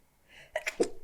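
A single quick, close sneeze bursts out after a short intake of breath, sharp and alone in a quiet room.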